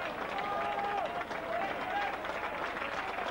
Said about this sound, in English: he applauds the crowd as the crowd applaud him